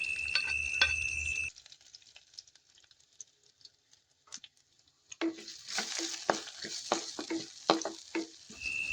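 Mustard seeds and chopped garlic temper in oil over low heat. A short tonal sound gives way to near silence, then a lively crackling sizzle with sharp, scattered pops takes over for the second half.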